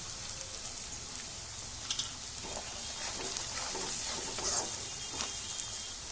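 Chopped onions sautéing in a pan for pav bhaji, a steady close sizzle with faint scraping and stirring scuffs, alone without any voices.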